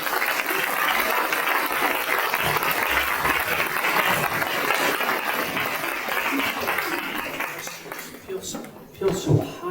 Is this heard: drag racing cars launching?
no